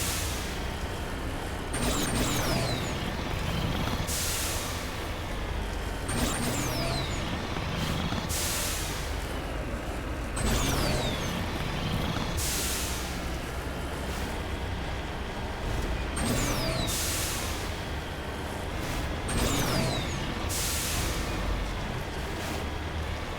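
The Mako all-terrain vehicle in Mass Effect drives steadily, a loud continuous engine rumble with regular whooshing surges every few seconds, heard alone without talk.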